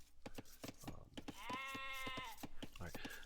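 A sheep bleats in Age of Empires II, a wavering tonal call in the middle of the clip over a busy game soundscape of rhythmic clicks and thumps.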